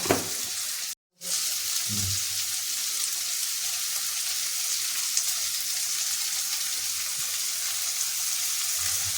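Vegetables sizzle in a pan for Maggi noodles, with a bright, steady hiss of frying oil that cuts out for a moment near the start and then carries on unbroken, with a few soft stirring knocks.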